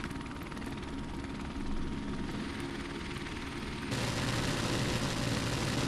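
Helicopter in a World War 2 video game, a steady loud rotor and engine drone that holds for the whole stretch and grows a bit louder and brighter near the end, with no talk over it.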